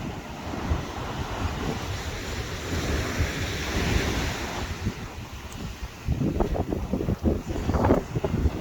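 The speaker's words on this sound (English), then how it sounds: "Listen to the waves crashing on the beach." Waves surge and crash onto a Scottish beach in a steady wash of surf, with wind buffeting the microphone and a burst of louder breaking waves near the end.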